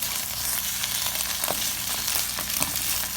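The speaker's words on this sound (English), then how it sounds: "I can do the stir fry now." A steady, loud sizzle fills a pan during a quick Chinese stir fry, with a few scraping stir strokes near the end and no talking.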